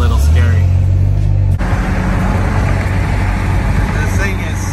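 Engine noise from a 1976 Toyota Celica RA20 being driven, a steady low drone that shifts abruptly partway through and then holds as a rougher, broadband rumble with road noise.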